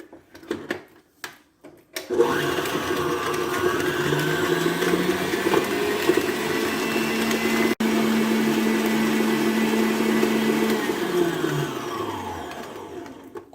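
An electric stand mixer beats butter and sugar, starting after a few clicks with a steady whirring motor hum that rises slightly in pitch, briefly stops, then continues close and loud until it winds down.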